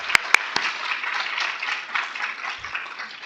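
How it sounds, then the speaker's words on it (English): Audience applause following a dance group's performance at a diversity recognition event, a steady mid-level patter of clapping with a few sharp close claps near the start, no talking. "Let's give them another round of applause."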